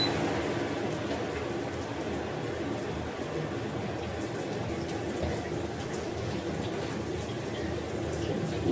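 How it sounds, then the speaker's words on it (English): Tap water runs steadily for a salon-style shampoo wash, a continuous even rush that stays constant for several seconds with no voices. "once I get the water running and started"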